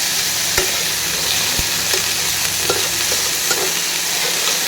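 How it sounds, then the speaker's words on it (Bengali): Banana flower stem frying in a pan with salt and turmeric, a steady bright sizzle broken by a few scraping stirs and light knocks of the spoon. "এই তো যত নাড়বো, নুন হলুদ দিয়ে ভাজা ভাজা করবো"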